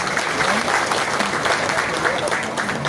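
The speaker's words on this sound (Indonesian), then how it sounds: "Tepuk tangan untuk mereka semua." Audience at a Jakarta school gathering clapping for standing guests, the family of a late architect, steady dense applause with faint voices mixed in underneath.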